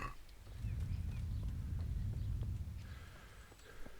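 Horse hooves clopping in the medieval video game Kingdom Come: Deliverance, a quiet, steady run of low thuds lasting several seconds with faint game ambience and no voices.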